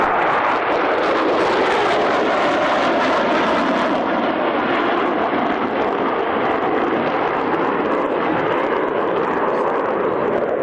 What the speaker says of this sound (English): Coming in from the left, the B-1B Lancer bomber.